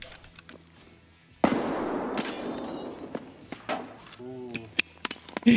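A sudden loud video game grenade blast bursts out and decays into rumble, followed by scattered sharp pops and clicks amid sparse gameplay noises.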